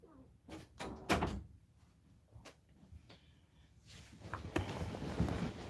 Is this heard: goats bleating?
no